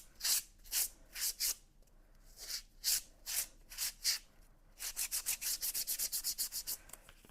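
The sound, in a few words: wiping a gel printing plate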